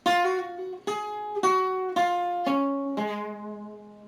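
Six evenly spaced, ringing guitar notes from a riff, picked one at a time across the strings, each sustaining until the next, with the last note left to fade.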